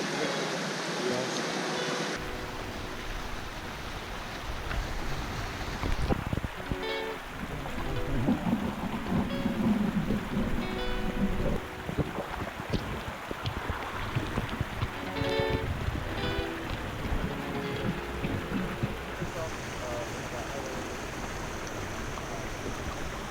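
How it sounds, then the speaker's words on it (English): Waterfall beside a hot spring pool in snowy mountains, a steady broad rushing roar running throughout under wind noise on the microphone, with people talking over it. "a waterfall at my back"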